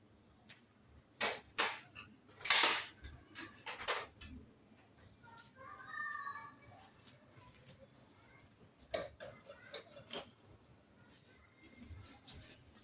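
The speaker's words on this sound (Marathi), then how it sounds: "आता हे ओट्स करायला मी सुरुवात करते अगोदर गॅस पेटवून" A kitchen gas stove being lit makes a burst of sharp ignition clicks near the start, followed by softer scattered ticks and faint rustling.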